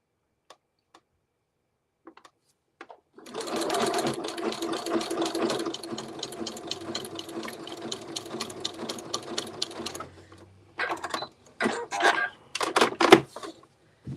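A sewing machine runs a zigzag stitch joining quilt-as-you-go quilt blocks, a steady rapid mechanical chatter for several seconds, then stops and restarts in short bursts, close and fairly loud with no talk.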